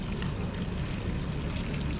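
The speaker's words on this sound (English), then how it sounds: "So I'm going to fill this up with water" Water pouring steadily into a dart frog tank as it is filled, a continuous close rushing wash with no talk.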